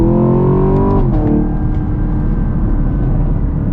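A Chevy Camaro SS 1LE accelerates hard, close and loud. The engine note climbs, drops sharply as it shifts up, then pulls again as a steady heavy roar.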